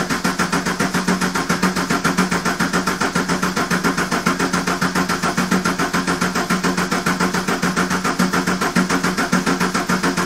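A long-unused Ford Escort Diesel estate cranks over on a start attempt, a loud, close, rapid rhythmic churning that keeps going without catching, with no talk.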